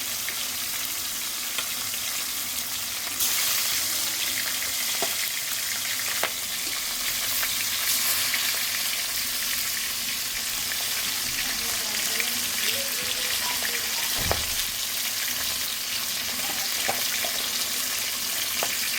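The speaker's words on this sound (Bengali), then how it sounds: "এবার মাছটা আমি একে একে দিয়ে ভেজে নেব হালকাভাবে" Fish fries lightly in hot oil, crackling and sizzling steadily, with a few sharp pops and light clinks rising over the constant frying.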